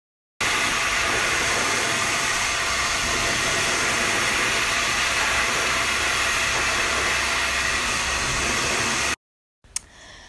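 A hair dryer blowing hair after a Brazilian straightening treatment at a salon, a loud continuous rushing hiss held for about nine seconds before it cuts off.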